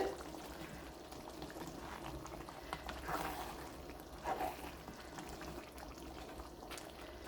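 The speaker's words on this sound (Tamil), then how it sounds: "நான் அதனால் இன்னும் கொஞ்சம் தண்ணி ஆட் பண்ணுறேன்." Water is poured into a simmering spicy South Indian chicken curry gravy, giving a quiet, close, uneven pouring and bubbling sound with a couple of louder splashes.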